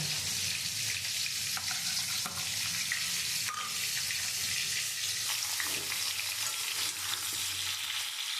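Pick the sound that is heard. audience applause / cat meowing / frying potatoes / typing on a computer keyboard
frying potatoes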